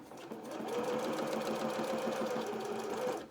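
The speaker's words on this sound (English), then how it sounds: "we're just going to sew straight down the bottom here" A sewing machine stitches a straight seam along the bottom edge of a small coat, a steady fast whirring hum that starts up and runs continuously before stopping.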